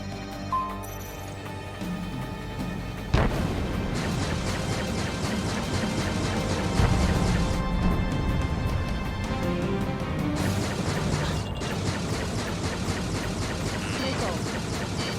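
A single sharp crash from a missile hit in Ace Combat 7 air combat, with an ADF-11F in play. It is followed by a steady, loud jet engine drone that continues to the end.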